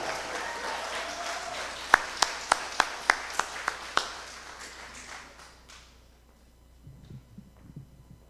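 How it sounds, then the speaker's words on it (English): Audience applause at a UNC United Patriots political gathering in the Felicity Hindu School hall, a spread of clapping with several loud sharp claps standing out, slowly dying away to near quiet with faint low rumble at the end. "let us welcome her with a round of applause"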